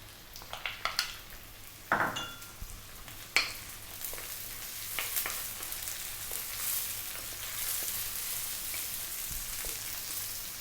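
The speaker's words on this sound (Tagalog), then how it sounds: "Lalagyan na po natin yung ating onion." Chopped onion drops into a hot pan for chicken sotanghon guisado, giving a sharp sizzle burst followed by a steady frying hiss, with a few clinks of utensil against pan early on.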